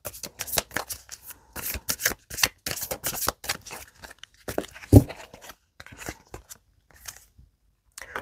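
Tarot-style cards being shuffled for a card reading, close and crisp, with repeated rapid riffling bursts and soft slaps in an irregular rhythm, alone without talk.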